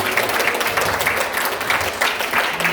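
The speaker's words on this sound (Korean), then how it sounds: "박수 부탁드리겠습니다." A church conference audience applauds at a resort venue, a dense, steady wash of many hands clapping together, sustained and even for a few seconds.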